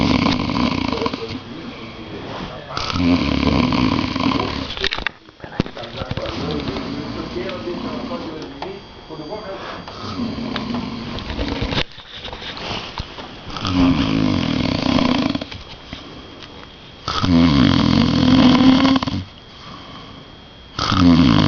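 A man sleeping in São Paulo snores loudly in repeated long, rasping breaths with short pauses between them, heard up close in a quiet room.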